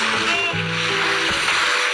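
Water sloshing and splashing in the Toca Boca Jr. Nature game, a steady watery wash with brief gurgling tones, fairly loud throughout.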